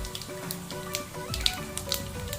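Chana dal frying in hot oil with mustard seeds and cumin for coriander rice makes a soft, steady sizzle with a few small pops, close and continuous under faint background music.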